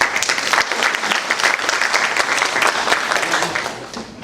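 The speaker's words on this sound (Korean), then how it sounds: "박수 한번." Audience applause fills the hall at a social welfare policy debate for Yongin mayoral candidates, a dense, steady clapping from a seated crowd that holds for several seconds before easing slightly at the end.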